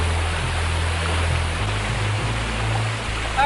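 Steady broadband rush of river water flowing continuously at a hidden off-grid Jamaican river, with a low rumbling undertone and no voices.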